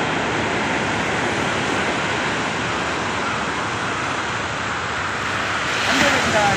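Surf rolls in at Cuddalore beach as a constant broad wash of breaking sea waves that stays loud and close for several seconds, swelling slightly near the end.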